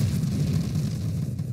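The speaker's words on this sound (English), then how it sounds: "Go enjoy your polar inversion explosions." Polar inversion explosions in the space shooter Nova Drift: a continuous low rumbling boom that rolls and churns without pause, loud and bass-heavy, with no talking.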